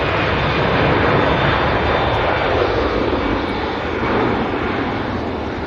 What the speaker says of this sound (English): Really steady climb out there for the EasyJet